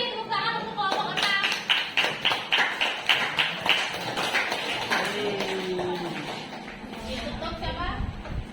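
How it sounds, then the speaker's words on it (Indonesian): A classroom audience claps for group 6 during a teaching performance assessment, starting with rhythmic, evenly spaced group claps and then breaking into looser applause, with voices talking over it near the end. "Terima kasih tepuk tangan untuk kelompok 6"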